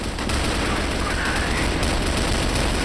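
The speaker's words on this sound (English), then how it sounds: "Shots are flying." Dense, continuous gunfire in the shooter Crossfire during a quarterfinal match, loud and unbroken throughout with no pauses between shots.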